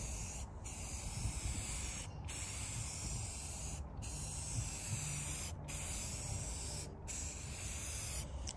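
A clear coat is sprayed onto a bass box in a steady hiss, with the spray cutting off briefly about every one and a half seconds before resuming, close but fairly quiet.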